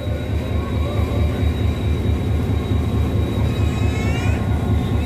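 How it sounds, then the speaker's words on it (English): A passenger train rumbles past nearby in Pakistan with a steady low roar and faint high squeals, continuous throughout. "There's the train."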